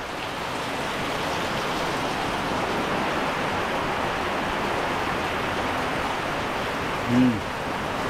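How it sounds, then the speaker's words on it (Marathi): Heavy rain pours down in a steady, dense hiss that stays loud and unbroken throughout, with one brief low thump near the end. "जोरदार पाऊस आला आहे."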